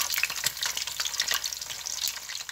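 Cooking oil frying a soy sauce dish in a pan, a close, continuous crackling sizzle with dense bright pops and spatters and no talking.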